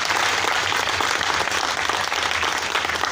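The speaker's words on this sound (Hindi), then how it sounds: "जोरदार तालियों की गड़गड़ाहट से सर का अभिनंदन करें" An audience at a Delhi Police event applauds, a dense, sustained burst of many hands clapping at once, loud and even for the whole stretch.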